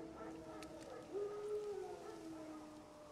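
Wild dogs howling in The Witcher 3, a faint, drawn-out tonal howl that rises to a sustained note midway, heard at a distance over a low ambient hum.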